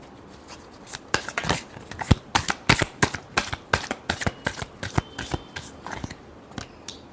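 Tarot cards are shuffled by hand in quick, close riffles and snaps, a rapid series of crisp bursts across the whole stretch with no speech.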